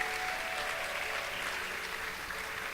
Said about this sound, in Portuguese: Vamos dar uma salva de palmas ao Senhor Jesus.